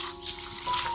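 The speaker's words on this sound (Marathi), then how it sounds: "आता हे गरम पाणी टाकते मी ह्याच्यामध्ये" Hot water poured from a vessel onto freshly gathered wild mushrooms, a steady close gushing splash lasting about a second.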